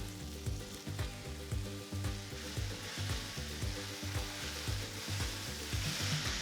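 Fresh spinach hits a hot frying pan with garlic and crackles into a steady, lively sizzle, close up and continuous, punctuated by soft stirring knocks and scrapes, with no one talking.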